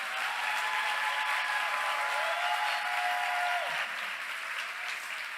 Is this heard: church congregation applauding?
yes